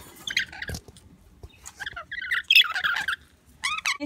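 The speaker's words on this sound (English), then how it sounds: "This is Bob, our lorikeet." A pet lorikeet in a backyard gives several bursts of shrill, chattering calls and squawks, close by and fairly loud, separated by short pauses.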